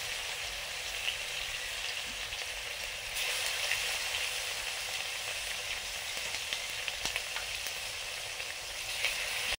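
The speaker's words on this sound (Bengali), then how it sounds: "লোহার কড়াতেও রান্না করছি আজকে, সেই একই রান্না।" Food frying in an iron wok, with a steady, even sizzle that goes on the whole time, close by and moderately quiet, with a few faint stirring clicks and no talking.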